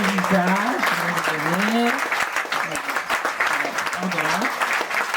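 Audience applause at a garden inauguration, steady clapping from a crowd close by, with a voice speaking over the clapping throughout.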